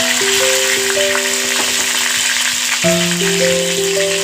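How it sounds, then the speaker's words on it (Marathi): Curry leaves fry in hot oil with roasted garlic, giving a constant close hiss and sizzle. Background music with sustained melodic notes plays throughout. "लसूण चांगला भाजत आला की त्याच्यामध्ये आपण कढीपत्ता घालून घ्यायचा त्याच्यामध्ये मी आता कढीपत्ता घालून घेतला"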